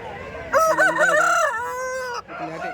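A rooster crows loudly nearby at a poultry market, one long drawn-out call ending abruptly, with background chatter from a crowd.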